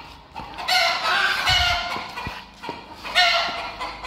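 A rooster crows and clucks loudly and nearby, with repeated harsh calls and a few short thumps in between.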